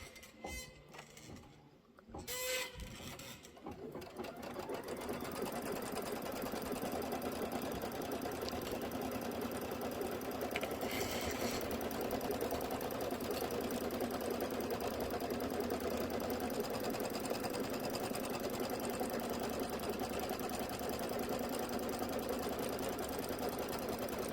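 An embroidery machine stitches a placement line for quilt batting, a steady, close, continuous rapid whir and patter that starts after a few seconds of handling noise and holds evenly to the end.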